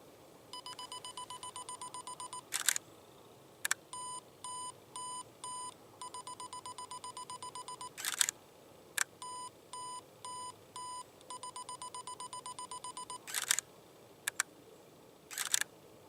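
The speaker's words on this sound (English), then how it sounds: "We're on the self timer because I forgot my remote shutter release." A camera's self-timer beeps in rapid, evenly spaced runs, broken several times by sharp shutter clicks as bracketed exposures fire, with quiet outdoor ambience between.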